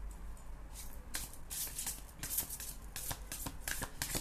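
A deck of tarot cards shuffled by hand in close-up, bursts of rapid riffling and flicking repeating steadily and clearly.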